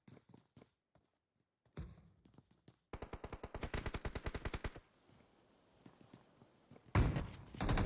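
Rapid automatic gunfire crackles through a multiplayer shooter crossfire during a competitive esports scrimmage, a long sustained burst of evenly spaced shots in the middle, scattered single shots and thuds before it, and a heavy loud blast at the end.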